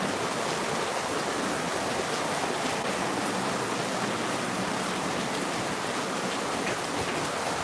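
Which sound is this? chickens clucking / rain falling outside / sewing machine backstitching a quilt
rain falling outside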